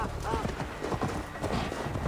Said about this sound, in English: I have lost control of this horse.